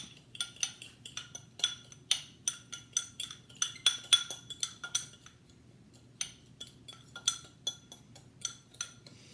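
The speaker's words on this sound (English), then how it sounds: "Had to go back, get my fork, mix this bad boy up." Fork clinking rapidly against a bowl while mixing bacon curing mix, a steady run of light metallic taps with short pauses, close and fairly quiet.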